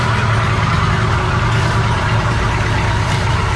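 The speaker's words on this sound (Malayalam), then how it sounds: "നമ്മുടെ കൂപ്പർ എഞ്ചിൻ 10 വർഷങ്ങൾക്ക് ശേഷം നമ്മുടെ കൂപ്പർ എഞ്ചിൻ നമ്മൾ സ്റ്റാർട്ട് ചെയ്തിരിക്കുകയാണ്." An old Cooper engine, started cold after ten years of sitting unused, runs at a steady idle with a loud, close, continuous rumble and a faint knocking texture, with no voices.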